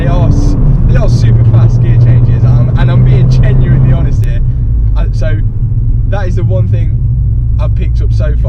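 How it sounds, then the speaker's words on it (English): A modified Ford Fiesta ST180 with a quickshift accelerates hard, its loud in-cabin engine drone dipping briefly at a quick gear change. Someone talks continuously over the engine noise. "I can put my foot down now, and the gear changes are almost rally car spec."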